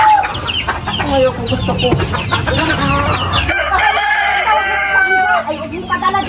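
Chickens cluck and a rooster crows repeatedly at close range in a rural yard, the calls overlapping and continuous while people talk over them.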